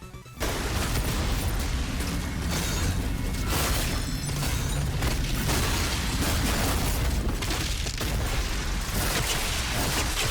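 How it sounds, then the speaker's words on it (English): In DOOM: The Dark Ages, a Super Shotgun and gauntlet combo plays out as a dense, nonstop barrage of heavy blasts, crunching strikes and booming impacts over loud game music, with no pauses. "Super Shotgun, 2 gauntlet strikes, Super Shotgun again with a stab, kick, SSG"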